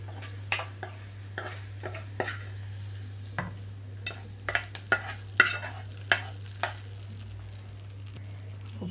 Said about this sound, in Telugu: తాలింపు అంతా మజ్జిగలో కలిపేస్తున్నాను